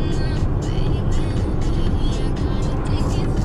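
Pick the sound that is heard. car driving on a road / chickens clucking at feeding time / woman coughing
car driving on a road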